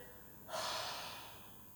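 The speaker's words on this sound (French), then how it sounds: "Inspire." A single soft, breathy inhale during a Pilates exercise, close and quiet, lasting about a second before slowly fading.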